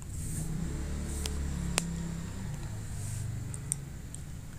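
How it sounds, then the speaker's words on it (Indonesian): A motorcycle engine drones nearby, a low steady hum that swells slightly as it passes, with a few faint clicks. "itu ada suara motor"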